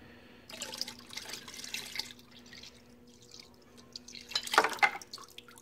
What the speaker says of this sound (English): Now we're going to pitch the yeast into our wort.